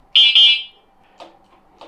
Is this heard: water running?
no